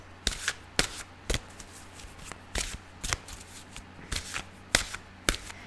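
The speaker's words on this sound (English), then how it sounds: "I couldn't shuffle and talk at the same time." Crisp riffling bursts of tarot cards being shuffled, about ten quick flurries in an irregular rhythm, close by with no one speaking.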